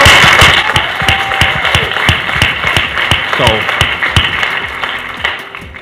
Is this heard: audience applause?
yes